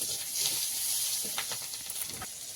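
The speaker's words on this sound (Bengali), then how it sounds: "কুচনো পেঁয়াজটা আগে দিয়ে দিচ্ছি তেলে" Chopped onion dropped into hot oil in a pan, giving a soft, steady frying hiss close by, with a few faint crackles and no voices.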